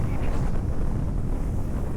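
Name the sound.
wind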